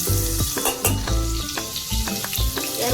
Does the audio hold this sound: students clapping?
no